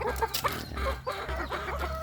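Several Basilan chickens, five months old, cluck and murmur in short bursts, fairly close, with a low steady hum underneath.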